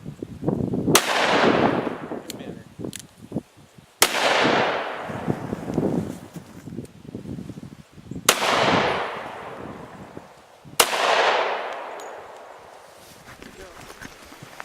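A .357 Magnum fires four loud, sharp reports into a stack of 16 wood sheets. Each shot rings out with a long, fading tail, spaced a few seconds apart, and voices are heard between the shots.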